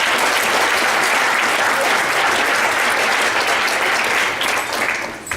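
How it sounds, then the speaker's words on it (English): Audience applause for Richard Abbey at a Shabbat event, a loud sustained wash of many hands clapping from a crowd in a room, holding steady for several seconds before tapering off at the end. "can we give Richard Abbey a round of applause as well?"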